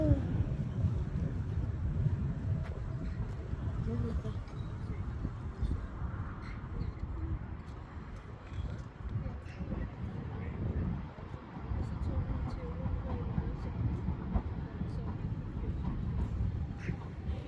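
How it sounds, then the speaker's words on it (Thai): A train rumbles into a large station in Denmark with low, heavy rolling noise and wind buffeting the microphone, while someone talks over it. "รถไฟมา"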